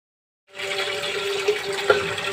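Running water pours steadily over cow head skin during washing, a continuous splashing flow that starts abruptly and continues with small surges.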